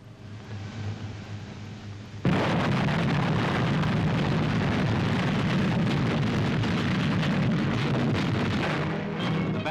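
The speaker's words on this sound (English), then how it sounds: "then into the attack with massed artillery at Alamein" Massed artillery fire at Alamein in WWII archive footage, a dense, continuous rumbling roar of gunfire that starts suddenly after a quieter stretch and stays loud throughout.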